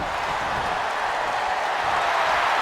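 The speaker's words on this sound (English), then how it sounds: "Just listen to that crowd coming to life" Steady roar of a video game arena crowd in WWE 2K26 Universe Mode, a dense continuous wash of cheering that stays loud and even throughout without breaks.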